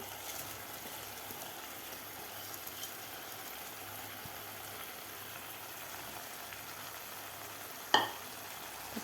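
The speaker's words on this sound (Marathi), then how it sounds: "तांदूळ आपल्याला व्यवस्थित यामध्ये मिक्स करून घ्यायचे आहेत खालच्या मसाल्यामध्ये" Soaked rice being stirred into masala with whole masoor and potato in a pan, a faint, steady sizzling scrape that runs continuously with one sharp knock near the end, with no voices.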